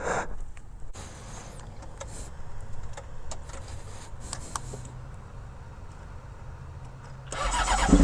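A motorcycle engine starts with a sharp burst, followed by a long stretch of low rumbling idle with scattered clicks and knocks, then swells into a loud rev at the end, nearby.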